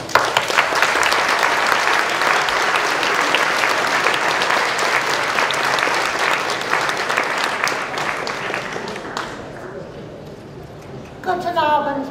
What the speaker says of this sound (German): Daher einen herzlichen Applaus für die Bürgermeisterin